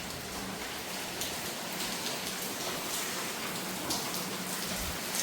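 Heavy rain pours down in a dense, constant hiss of countless drops striking surfaces, steady and loud from start to finish with no voices.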